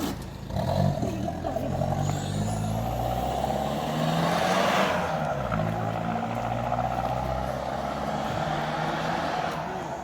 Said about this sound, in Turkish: Araba geliyor dikkat edin.